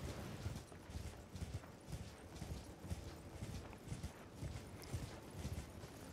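Horse hooves clip-clop in Elden Ring as a huge rider's small horse walks, a steady rhythmic plodding with a low rumble beneath it, fairly close and continuous throughout.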